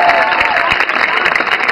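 Audience at a Hindi poetry recital claps in a brief, steady burst of dense hand-clapping, loud and close throughout.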